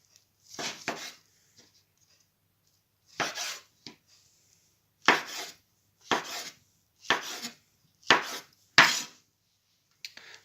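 Sharp knife strikes cutting oyster mushrooms on a cutting board, a short pair, then a lone chop, then a run of five evenly spaced chops, close and crisp.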